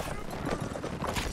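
Horse hooves clip-clopping at a gallop in the Mount and Musket battle game, a short burst of rapid thuds mixed with other battle noise and a voice.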